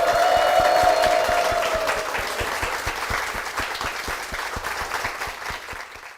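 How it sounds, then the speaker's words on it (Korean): Church congregation at Jeongam Church gives sustained applause, dense and loud at first then gradually thinning and softening, with a brief tonal voice or hum near the start. "힘찬 박수 부탁드리겠습니다"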